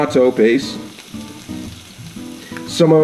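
Vegetables sautéing in a pan for Spanish rice with mackerel, a steady close sizzle with soft stirring scrapes, partly under tonal humming or background voice.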